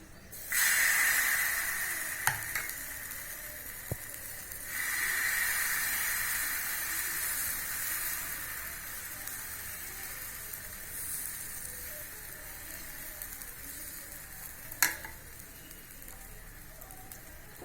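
Dosa batter sizzles on a hot griddle with a steady, bright hiss that swells as more batter is spread, with a couple of sharp utensil clicks and no talk.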